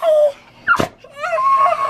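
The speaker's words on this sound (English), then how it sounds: "Puppy sneezing on you." A puppy gives one sharp, short sneeze between soft whimpering whines, heard up close.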